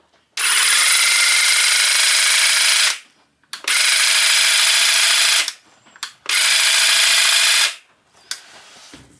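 An Einhell 18V cordless hedge trimmer, model GC-CH 1846 Li, buzzes loudly close up in three bursts of roughly two to three seconds each, separated by short pauses, with small clicks between runs.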